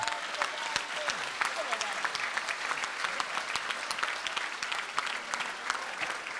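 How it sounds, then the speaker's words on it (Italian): A crowd at a Lega Nord party rally in Umbria breaks into sustained applause, many hands clapping in a dense, steady roar heard from within the audience, with voices mixed through it. "vi prego di anticipare un applauso speciale a David Bonifazi e a tutti gli amici di Pianello"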